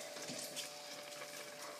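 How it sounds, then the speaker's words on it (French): Water poured into a lamb tajine with prunes during cooking, a steady broadband splashing and trickling pour that runs continuously at even loudness for the whole stretch. "je vais compléter avec un peu d'eau"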